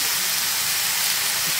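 Chopped papaya, potato, long beans and carrot sizzling in a pan for a plain salted stir-fry, a loud, dense, even hiss that holds steady throughout, close up and without speech.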